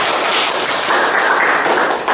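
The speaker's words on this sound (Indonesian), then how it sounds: "Tepuk tangan dulu dong buat Amelia." A classroom audience applauding a student presenter, dense steady clapping from many hands filling the room, loud and close with no speech.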